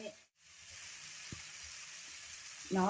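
Onions sizzle in a pan as they are sautéed for spicy Maggi noodles, a steady soft hiss of frying that briefly cuts out near the start, with a voice coming in at the end.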